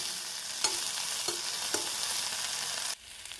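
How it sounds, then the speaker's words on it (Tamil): Okra sautéing in a pan under a steady loud sizzle, with a few distinct spatula scrapes as it is stirred, before the frying noise drops away near the end. "நாம் ஒரு 3 முதல் 4 நிமிடம் வதக்கினாலே வலுவலுப்பு தன்மை நீங்கிவிடும்"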